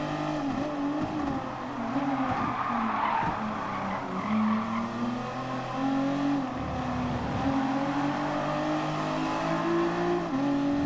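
Nissan GT-R race car in GT Sport, engine droning steadily at high revs with shifting pitch and squealing, skidding tires, loud and continuous throughout with no talk.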